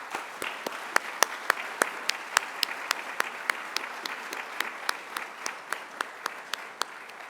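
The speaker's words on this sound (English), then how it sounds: "Please give a round of applause" Applause at a university Army ROTC hall of fame induction ceremony, a thin audience clapping with sharp, distinct individual claps in an uneven rhythm, steady throughout.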